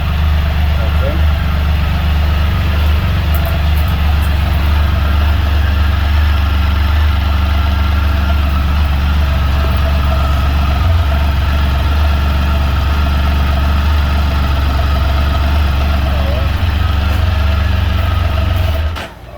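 A Can-Am Spyder motorcycle engine idles steadily, a loud, close, low rumble that holds at an even level before dropping away at the very end.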